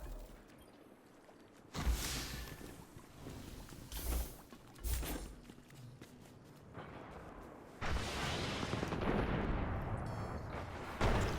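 Heavy weapons fire in the Star Fox video game: loud booming blasts and rumbling bursts come in irregular waves, building to a sustained barrage near the end, with no voices.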